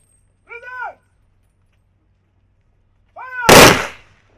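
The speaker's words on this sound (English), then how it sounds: "the traditional 21 gunshot salute to finally send the former commander of the" A single sharp, loud gun report from the traditional 21-gun salute at the state burial of Nigeria's former head of state Ernest Shonekan. It follows two short tonal calls separated by silence.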